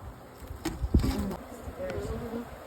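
Honey bees buzz around hive frames during a hive inspection, a close, uneven drone with scattered bumps and knocks from handling the frames.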